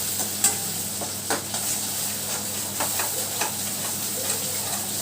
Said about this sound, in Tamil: இப்போ வந்து நல்லா ஃப்ரை பண்ணி எடுத்துடலாம்